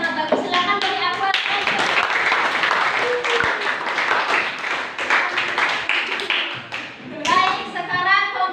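A classroom group applauds after a discussion presentation, dense steady hand clapping sustained for several seconds, with children's and adults' voices chattering underneath and a voice speaking briefly at the end.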